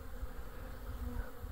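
Honey bees buzz in a steady, dense drone around three very active observation hives inside a bee academy building, heard close and continuous with no talk.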